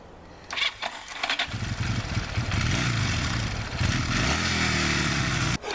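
A start button cranks the engine of an old bike or scooter, which catches and settles into a loud, steady running rumble close by before cutting briefly near the end.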